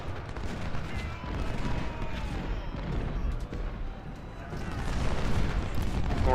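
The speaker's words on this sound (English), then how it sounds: "Hayes, hit those cannons." Cannon and musket fire rumble through a Civil War battle in the video game Ultimate General: Civil War, a dense, continuous low roar of distant volleys and booms with crackling gunfire, swelling louder toward the end.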